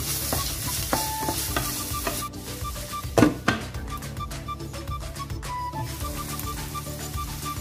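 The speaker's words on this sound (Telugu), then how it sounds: "ఆనియన్ వేసుకుందామండి ఇందులో కొంచెం salt వేసుకుందాము అదే విధంగా కొంచెం జింజర్ గార్లిక్ పేస్ట్ కూడా వేసుకొని ఫ్రై చేసుకుందాం" Chopped onion fries in a pan with salt and ginger garlic paste, giving a steady sizzle with frequent stirring scrapes and a few louder clanks of a utensil against the pan; no voices.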